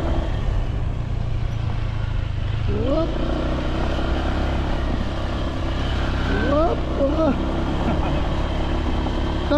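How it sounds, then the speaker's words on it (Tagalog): A Honda Click 125 scooter hums steadily while being ridden along a rough, pothole-strewn road, its engine drone constant and close, with voices chatting over it. "itong motor na sinakyan namin 125. Honda Click."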